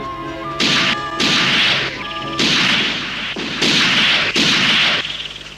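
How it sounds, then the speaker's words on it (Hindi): Gunfire in a Hindi-dubbed Jungle Book cartoon: a series of loud, sharp blasts with long noisy bursts, roughly five or six shots spaced about a second apart, with brief tonal music between them. "गोली चलाओ जल्दी।"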